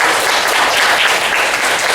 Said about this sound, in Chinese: 这是我们的掌声